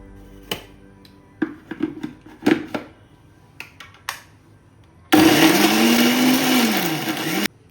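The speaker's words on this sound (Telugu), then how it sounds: "ఇప్పుడు వీటిని కచ్చా పచ్చాగా మిక్సీ పట్టుకుందాం." A mixie grinds coriander seeds, cumin and a green chilli coarsely for a crab curry: a loud, steady whirring roar for about two seconds that ends abruptly, after several sharp clicks and taps.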